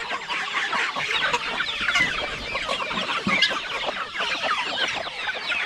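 Chickens and roosters on a family farm cluck steadily and close by, a dense overlapping flock chatter that runs without pause throughout.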